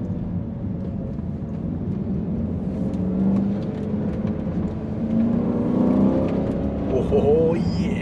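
A Volvo S80 V8 in manual mode hums and rises in pitch as it revs and accelerates, a steady low engine drone heard from inside the car, with a gear change and a voice talking over it.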